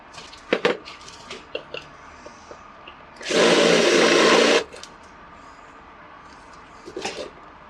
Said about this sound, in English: dismantle the whole thing at the base by drilling out the rivets